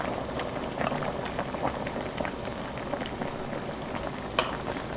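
Garlic and aged chonggak kimchi stir-frying in a pan give a steady close sizzle and crackle with scattered pops, continuous throughout without talk.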